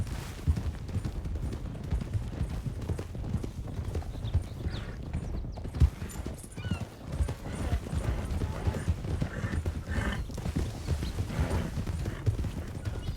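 Horses ridden in Red Dead roleplay, hooves beating in a fast, dense clip-clop under rumbling game ambience, with a brief whinny and the occasional faint distant pop.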